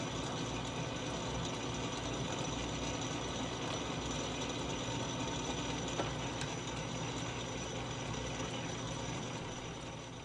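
A horizontal mill converted into a lathe cuts threads on a K&T drive gear, giving a steady, dense mechanical whir with gear and ratchet-like clatter that carries on through the whole stretch, close up and without any talk.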